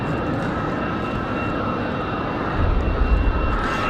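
A United Airbus A320 or A319 jet departs from Raleigh Durham airport in windy conditions, a loud steady engine roar with wind noise that swells with a deeper rumble toward the end, no talking.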